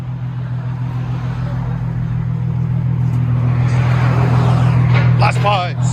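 A Nissan 350Z with a 3.5L V6 and blast pipes in place of its muffler and resonator rumbles with a loud, steady low drone that swells as it revs, with voices talking over the end.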